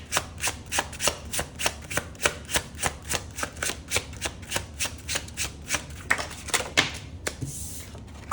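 Tarot cards are shuffled by hand in a steady, rhythmic run of crisp riffling snaps, close and distinct, slowing into a few looser shuffles at the end.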